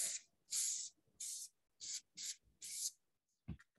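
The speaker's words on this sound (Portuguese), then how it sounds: "Agora vou pôr um bocadinho de desmoldante em spray" Release-agent cooking spray hissing into a cheesecake tin in six short, sharp bursts close by, separated by brief pauses, followed by a faint clatter.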